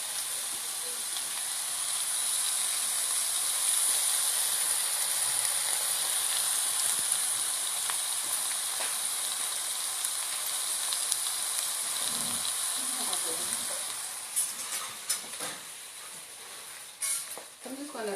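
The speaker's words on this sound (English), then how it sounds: "And I'm just going to let that cook for a little bit, and while that's sauteing" Bell peppers sauté in a pan as a steady, even hiss that holds loud for most of the stretch, then thins and turns patchier near the end while a few faint clatters and bumps come through.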